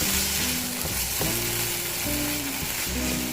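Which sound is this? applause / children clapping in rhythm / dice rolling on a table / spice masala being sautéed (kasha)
spice masala being sautéed (kasha)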